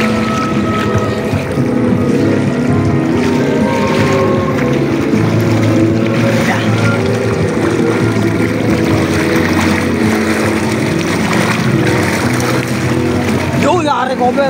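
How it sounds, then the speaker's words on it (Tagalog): Loud, steady rumble of a boat pushing through rough river water, with waves slapping against the hull throughout and a brief louder knock near the end; voices are faintly present underneath. "Lakas ng alon."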